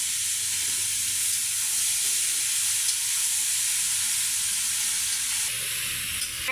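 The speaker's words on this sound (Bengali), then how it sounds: "এখন এই যে এখানে নাড়াচাড়া করে নিচ্ছি।" Chopped ash gourd sizzles steadily in a hot frying pan while being stirred, a continuous close, fairly loud crackling hiss that holds evenly throughout with no talk.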